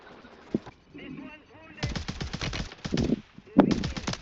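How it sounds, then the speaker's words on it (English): Bursts of DT-31 assault rifle fire in the video game Warzone 3, several rapid volleys of moderately loud gunfire, with faint voices earlier in the clip. "He's using the new assault rifle. DT-31."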